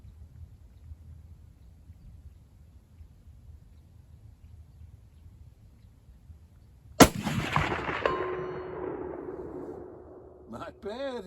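A single loud rifle shot from a Marlin 336 lever-action in .30-30 fired at a steel target about 240 yards away, followed by a long ringing tail with a sustained tone as the steel rings, in a quiet outdoor setting.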